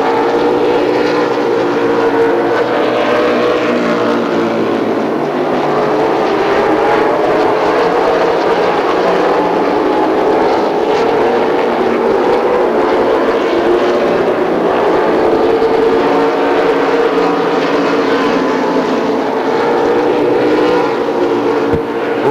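Super late model race cars circle a dirt-and-asphalt style oval in Peachstate competition, several engines blending into one loud, continuous roar that swells and recedes as the pack passes, with no talk over it.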